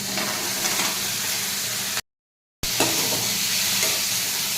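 Potatoes fry in a pan for a Bengali thali dish, giving a steady close sizzle with stirring scrapes and a short silent gap partway through.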